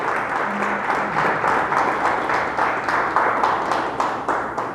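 A church congregation claps loudly and steadily in dense, sustained applause for the Lord throughout, with a faint brief tone near the start.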